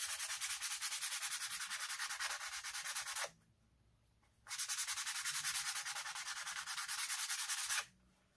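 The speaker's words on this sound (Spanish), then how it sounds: "ahora aquí le voy a pasar esta lija 240" A pool cue tip is rubbed with 240-grit sandpaper in two long, steady bursts of dry, hissing abrasion, separated by a short pause, close and fairly loud with no voices.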